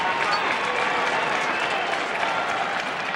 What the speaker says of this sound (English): Crowd appreciating the defense of Syracuse there.